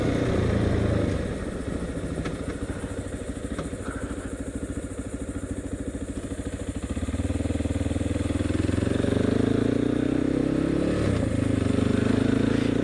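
Motorcycle riding along the Indian River near Rockledge, its engine droning steadily and loudly throughout with rumbling vibration, wind rush and gear shifts, the pitch rising slightly as it speeds up.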